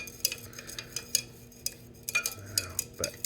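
Stir stick scraping and tapping in a container of copper solution, a series of light clicks and clinks at an irregular rhythm, close up and fairly quiet.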